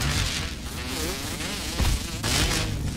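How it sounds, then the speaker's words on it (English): Mosquito buzzing in the survival video game Grounded, a wavering whine that rises and falls over about three seconds, fairly close, with no talk over it. "Come back here, you jerk-faced mosquito."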